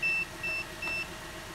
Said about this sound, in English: Oh, this is beeping.